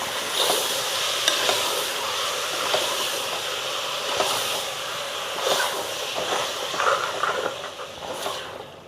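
Mutton boti fries in oil in a pan while being stirred, a steady loud sizzle and hiss with scraping strokes and small clinks recurring throughout.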